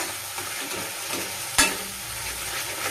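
Restaurant-style chana masala spice paste being stir-fried in a pan, a steady close hiss with soft scraping and one sharp clack of the utensil against the pan midway, with no voices.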